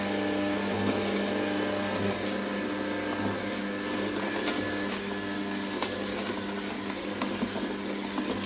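A Kuvings 820 vertical slow juicer presses fennel with a steady mechanical whir and grinding hum, continuous and fairly loud, with faint crackles of the vegetable being crushed and no talk.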